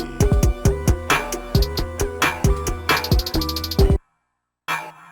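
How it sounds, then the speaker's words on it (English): Punchy tonal snare hits from a drum re-synthesis plugin ring out in a fast rhythmic drum pattern, each strike carrying a pitched, synthetic ring, before the beat cuts to silence and one hit returns. "So what you're hearing now is the snare element"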